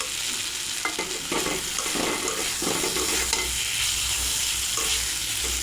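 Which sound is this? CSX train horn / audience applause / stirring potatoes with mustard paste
stirring potatoes with mustard paste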